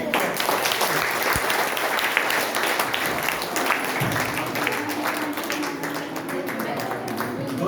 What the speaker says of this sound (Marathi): Big clap.